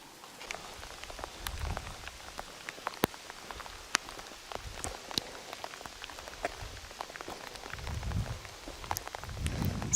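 Steady rain falling on surfaces around an abandoned modern neighborhood of small trailer-delivered homes, a constant soft patter with scattered sharper drops close by, no voices.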